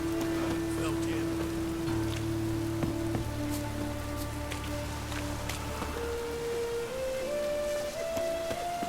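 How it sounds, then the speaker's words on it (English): Rain falls steadily in the video game Witcher 3, a soft continuous hiss of drops on surfaces, with sustained musical tones holding and stepping beneath it. "Rain was coming."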